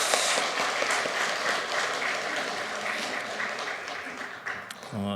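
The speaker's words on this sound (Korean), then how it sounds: "우리 신임 직분자들 그리고 봉사자들 모두를 위해서 박수 한번 하겠습니다" A church congregation bursts into sustained applause honoring newly appointed officers and volunteers, a dense, steady wash of many hands that holds loud for several seconds before tapering slightly at the end.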